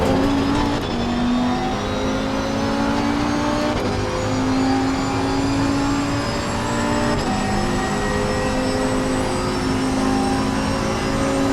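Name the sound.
Porsche race car engine driving slowly, Assetto Corsa Competizione video game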